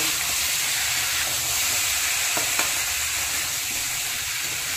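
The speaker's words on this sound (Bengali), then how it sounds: "মিষ্টি কুমড়োটা দিয়ে দেব।" Sweet pumpkin pieces go into a frying pan of spiced potatoes cooking in oil, producing a steady, loud sizzle with a few faint stirring clicks and no talking.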